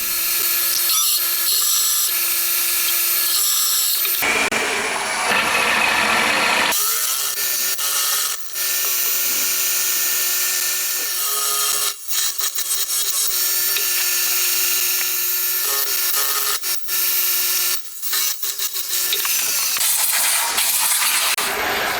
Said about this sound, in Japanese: あとは四隅に8ミリのドリルで穴開けて、それを長穴加工していきます。